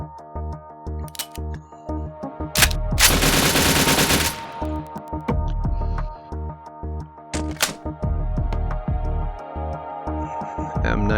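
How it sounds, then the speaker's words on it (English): Gold AK rifle firing in Gun Club VR, a fast rhythmic string of loud shots, including a dense full-auto burst, over a steady background hum, close and alone without talk. "Here we've got the gold AK."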